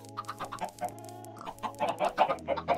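Minecraft chickens cluck in a run of short, repeated bursts inside a video game, steady and fairly close, with a low hum running underneath throughout.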